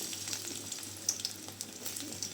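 Chopped onions sizzle in hot mustard oil in a wok, a steady bright crackle with occasional sharper pops, close and alone without talk.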